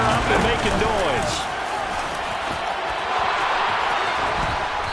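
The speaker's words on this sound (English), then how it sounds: "This crowd urging on their defense. They're up and making noise." Stadium crowd at a football game roaring loudly and steadily to support the defense on third down, a dense sustained din with an announcer's voice over it.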